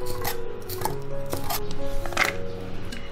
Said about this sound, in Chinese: 再来切些蒜末跟姜末